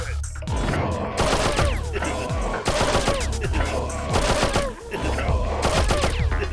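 Soldiers in Oddworld: Abe's Exoddus fire rapid bursts of gunfire in several loud, close volleys, broken by short gaps, over game music and sound effects.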